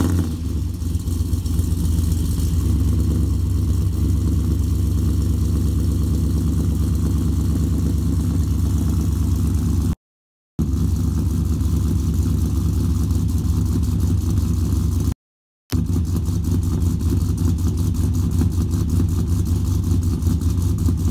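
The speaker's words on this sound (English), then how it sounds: "A little cold start" Cold start of a 1999–2006 vehicle's engine fitted with new Speed Engineering headers and exhaust: a loud, steady, deep idle rumble heard up close, broken by two brief dropouts, with no talking.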